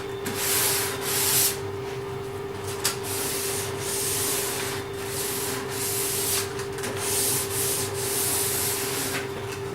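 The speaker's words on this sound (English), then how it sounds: "The light sand on the sides." Light hand sanding along the sides of a wooden desk, a steady close rasping rub with rhythmic strokes over a constant background hum.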